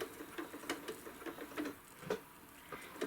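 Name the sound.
sewing machine doing tack stitch knot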